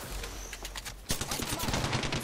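Gunfire in the Apex Legends video game: a fast burst of shots crowds the second half after a quieter stretch, loud and close, with faint talk underneath.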